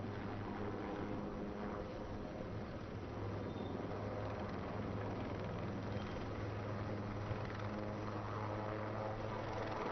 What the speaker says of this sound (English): the helicopter is doing a spiral up right, wherein the helicopter gains height as it turns